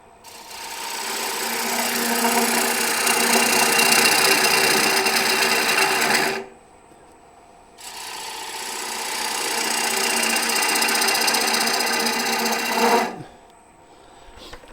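Wooden bowl on a lathe being cut with a bowl gouge, a steady whirring, rasping cut in two long passes of about six seconds each with a short quiet pause between, loud and close with no talk.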